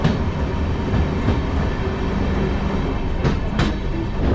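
A Vistadome glass-roofed passenger train on the Yeshwantpur–Mangalore line runs through a mountain tunnel, giving a loud, steady rumble of wheels and carriages with a few brief rattling bursts near the end.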